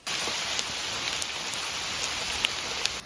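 Steady rain patters through the whole stretch at a campsite, falling on a tree overhead and the ground around, a dense even hiss with a few sharper drops landing close by.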